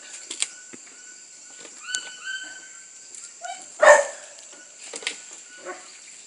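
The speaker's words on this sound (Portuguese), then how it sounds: "Os cachorros estão latindo" Dogs on a hunt for a paca bark faintly in short intermittent bursts through the outdoor forest ambience, with one louder yelp near the middle.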